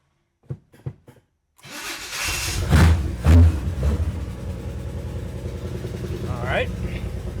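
After a few short clicks and faint sounds, an abandoned 1968 Chevrolet Impala that has sat for about a week fires up. It revs in a couple of loud bursts, then falls into a rough, steady idle with a voice over it.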